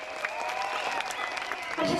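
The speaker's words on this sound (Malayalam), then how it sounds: "അടിമാലിക്ക് നല്ലൊരു കൈയടി" Audience applause at a Malayalam Mappilappattu stage show, dense steady clapping from a crowd lasting about two seconds, swelling slightly at the end.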